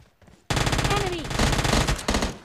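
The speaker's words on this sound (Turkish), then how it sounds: "Bugün Uzi kullanalım." Uzi submachine gun fire in the mobile shooter PUBG Mobile Lite, a loud sustained rapid burst running about two seconds after a quiet start, with a brief pause near the end.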